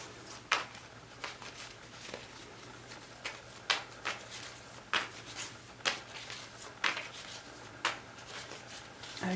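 Tarot cards being shuffled, about a dozen crisp riffling bursts in an irregular rhythm, close up over a faint steady hum, with no talking.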